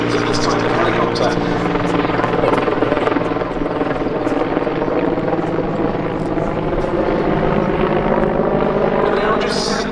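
A Czech Air Force Mil Mi-24 Hind helicopter flies at an airshow, its rotor producing a loud continuous throbbing drone with turbine whine, while a commentator talks over it throughout.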